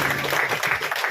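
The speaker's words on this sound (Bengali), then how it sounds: "সবাই একটু হাততালি দিও" A crowd claps steadily as a dense, continuous patter at a blood donation festival held by a Bengali community club in Kolkata.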